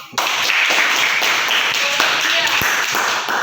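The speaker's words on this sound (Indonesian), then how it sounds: "tepuk tangan untuk kita semua" A classroom of students claps their hands together in a dense, steady burst of many overlapping claps lasting a few seconds, close and fairly loud, with a few sharper individual claps standing out.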